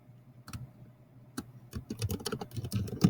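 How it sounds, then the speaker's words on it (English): A computer keyboard is typed on, starting with a few separate clicks and building into a quick, steady run of close keystrokes. "all you do is you click on the line and you can start typing your answer"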